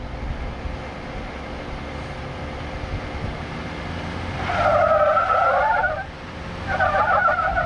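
A Jeep Grand Cherokee Trailhawk spins its tires on slickrock on Hell's Revenge Trail in Moab, engine droning steadily before a loud squealing spin, a brief pause, then another squeal close by.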